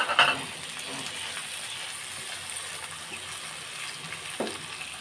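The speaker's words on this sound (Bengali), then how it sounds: "এগুলো দিয়ে আমি ভালোভাবে ভেজে নিব।" Cabbage mash ingredients with onion, tomato and chopped coriander fry in a pan, giving a soft, steady sizzle at low level with a faint clink near the start and another near the end.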